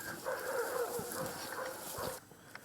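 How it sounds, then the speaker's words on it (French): Dogs bark and howl far off, the faint wavering calls drifting over a quiet outdoor background. "Seuls les aboiements de chiens au loin se font entendre."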